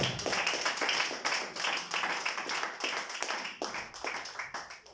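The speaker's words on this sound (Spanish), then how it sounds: "Denle palmas al Señor." Church congregation claps for the Lord in steady rhythmic unison, sharp repeated claps at an even pace, moderately distant and sustained throughout.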